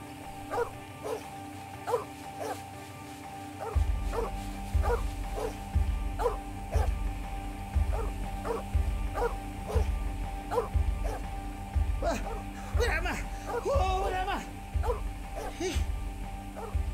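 A dog barks repeatedly in a fast, regular rhythm of sharp yaps near at hand, continuing for many seconds over a low rumbling background, with a burst of higher yelping near the end.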